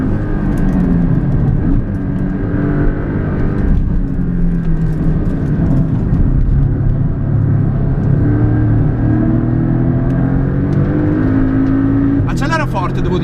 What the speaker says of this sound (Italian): Il motore ha un suono un po' particolare, non è il suono solito del 6 cilindri